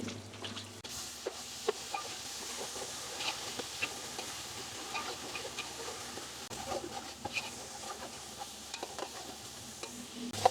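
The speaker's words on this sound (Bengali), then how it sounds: "দুই থেকে তিন মিনিট জাস্ট হালকা হিটে হালকা আছে ভালো করে ভুনে নেবেন" Coconut paste and spice masala fry gently in a pan over low heat, giving a soft continuous sizzle with scattered small crackles and occasional stirring scrapes, close and steady throughout.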